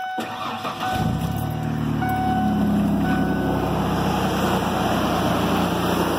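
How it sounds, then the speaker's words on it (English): A car motor with about 178,000 miles cranks briefly and catches, then settles into a steady, loud idle with a continuous low rumble, heard close up with no talking. "So, I'm going to start the motor."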